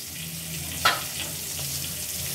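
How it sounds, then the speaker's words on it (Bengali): Rohu fish heads coated in turmeric and salt frying in a pan: a steady, soft sizzle with one brief sharper spatter, close up and without speech. "মাছের মাথাগুলো হলুদ লবণ মাখিয়ে ভেজে নিচ্ছি"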